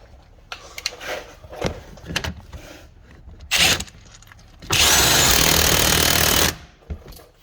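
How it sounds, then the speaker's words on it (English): An impact gun tightens the crankshaft pulley on a 2007 Honda Odyssey during a timing belt and water pump job, with a short burst followed by a loud sustained rattling hammer of about two seconds amid scattered clanks. "With the impact gun, should be good"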